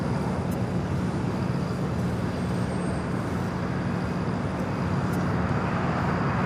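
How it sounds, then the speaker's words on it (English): American Airlines Boeing 737-800 landing at LAX on runway 25 left, a loud steady broadband jet roar holding constant throughout, with no voices over it. "It's American flight coming in from Phoenix, 737-800 at flight 2689. Seven on a mile final"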